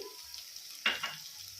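Curry leaves, turmeric and ginger-garlic paste frying in hot oil, with a soft background sizzle broken by one brief burst of spluttering and scraping as the mix is stirred, no voices.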